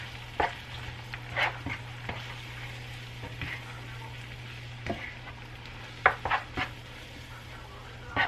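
A mixture stirred with a splash of water in a pan on the stove makes a soft sizzle beneath scattered spoon scrapes and clinks against the metal, close by and fairly quiet.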